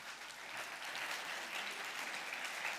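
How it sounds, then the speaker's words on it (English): Sustained audience applause at the end of a talk at a cultural event, an even wash of many hands clapping, heard from a distance and fairly soft. "Big round of applause for Trajal."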